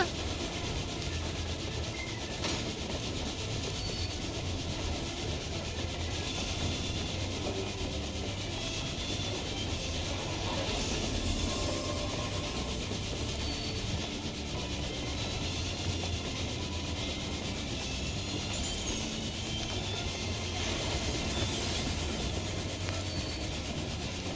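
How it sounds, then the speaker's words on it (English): A video game train from Final Fantasy XIV roars on without pause, its heavy rolling rumble and scraping rattle filling the scene at a constant loud level, with a few faint bright accents. "I'm fighting a train?"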